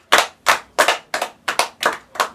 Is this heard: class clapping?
yes